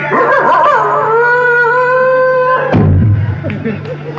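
A dog howls loudly in a long rising and falling wail, close and strong for several seconds, then stops abruptly and leaves a low rumble and scattered noise.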